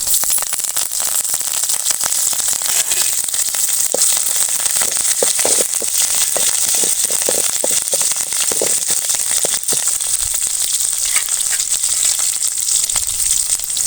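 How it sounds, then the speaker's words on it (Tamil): Curry leaves drop into hot oil for mudakathan keerai rasam, bursting into a loud, dense crackling sizzle with rapid popping spatters that stays steady and close throughout, with no talk. "கருவேப்பிலை போட்டுக்குவோம்"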